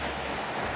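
A waterfall at Tejutepeque, Cabañas, El Salvador, a steady broadband rush of falling water heard from a distance, constant and unbroken, with no voices.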